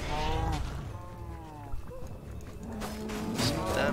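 Cows in a secret level of Minecraft Dungeons let out several deep moos, one long low call near the start and more overlapping moos later, amid game sounds.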